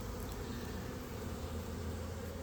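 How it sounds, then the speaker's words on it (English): Honeybees buzzing steadily at a hive entrance in early spring as they fly in and out, a dense continuous hum close by with no talking. "bees coming in and out"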